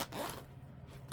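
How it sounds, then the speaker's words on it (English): A zipper on a packed fanny pack is drawn closed in one short, faint scraping pull, close by and with no talk. "Now let's see if that zips."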